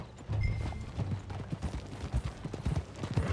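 Rhythmic clip-clop of a horse's hooves at a quick gait in Red Dead Redemption 2, steady and fairly close, with no talking over it.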